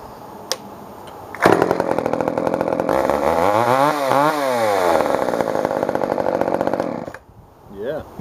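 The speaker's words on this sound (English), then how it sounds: "Let's see if she'll fire up again." A chainsaw fitted with a new carburetor kit is pull-started and catches, the two-stroke engine running loud and close, revving up and down in waves for several seconds before cutting off, with a brief voice at the end.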